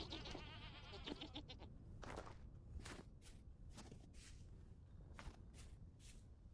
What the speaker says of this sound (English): It's just goats on the other side.